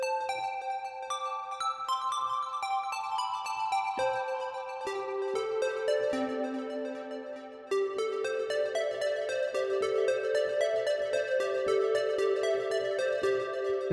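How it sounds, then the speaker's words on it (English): A muted synthesizer bell patch with a short decay plays a steady melodic line of soft plucked notes, each fading quickly, bright and clean with no voices. "It becomes more of a muted bell"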